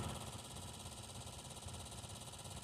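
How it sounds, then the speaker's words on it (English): A car's blower motor fan spins with a steady, low mechanical hum and faint vibration, continuous and fairly quiet, heard up close without talk. "right now you still have the fan, the blower motor spinning"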